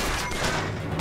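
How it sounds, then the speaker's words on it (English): Gunfire in the video game Bioshock Infinite: a brief, dense burst of rapid booming shots packed into about a second, loud and close, with no talking over it. "Who's shooting me now?"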